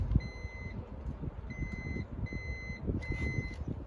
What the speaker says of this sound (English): the problem is the driver's side door just beeps